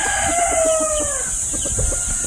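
A broodstag rooster, a young gamefowl cockerel, crows once in a long drawn-out call. Clucking and other farm fowl carry on underneath it.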